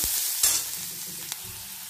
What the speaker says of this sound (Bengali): পেঁয়াজ দিলাম, 3টে কাঁচা লঙ্কা দিলাম, ভালো করে নাড়িয়ে নেব